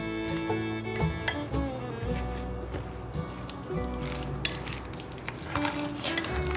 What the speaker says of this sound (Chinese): 把它搅拌至粘稠状